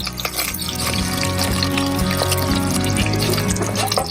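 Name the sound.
cooked chickpeas and water poured into pan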